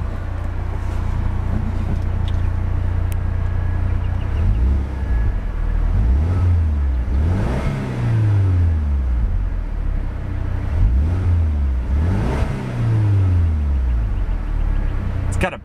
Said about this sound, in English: let's see about a few revs of that turbocharged four banger and see what kind of soundtrack she produces.